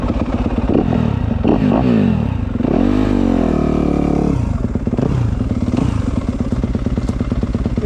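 A 2025 Yamaha YZ250F four-stroke dirt bike rides past loud and close, its engine revving up and down through gear changes with a clear rising pitch sweep midway, and clattery mechanical noise throughout.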